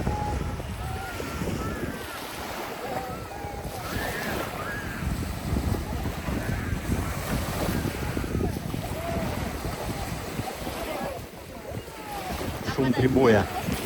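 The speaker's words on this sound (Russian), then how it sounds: "Шум прибоя." Sea surf washing onto a crowded Crimean beach at Shchyolkino during the swimming season, a soft continuous wash of waves blended with wind buffeting the microphone and someone talking.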